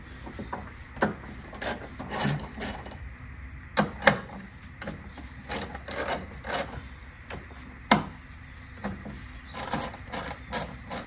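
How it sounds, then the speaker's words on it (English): Faint clicks, scrapes and rattles of a tool working three size 12 hex bolts loose from a car battery tray, irregular quiet taps and rubbing with a few sharper knocks, close by. "So remove these 3 bolts. They are size 12 hex bolts."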